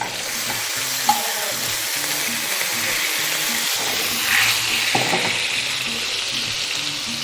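Butter and a little stock sizzle loudly in a hot pan for a lemon butter sauce, a bright continuous frying hiss broken by the scrape and slosh of stirring and one sharp clink early on.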